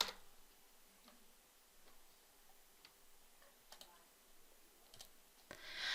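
Soft, scattered key taps of a postcode being typed on a computer keyboard, quiet and irregular against a near-silent office background, ending in a slightly louder burst of clicks.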